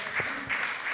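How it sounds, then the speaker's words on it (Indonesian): A comedy show audience claps and cheers in a short burst of applause, with a voice faintly under the crowd noise. "tepuk tangan dong"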